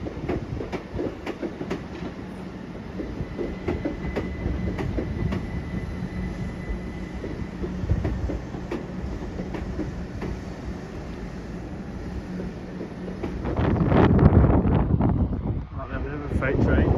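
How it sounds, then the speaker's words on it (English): A freight train passes along a railway line in Oxfordshire, a continuous loud rumble and clatter of wagons with wind buffeting the microphone, swelling louder near the end. "Freight train."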